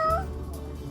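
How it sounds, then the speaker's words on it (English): A pet cat gives a single short meow at the start, close and clear, then quiet low room noise with no talking. "here with my cat Freya"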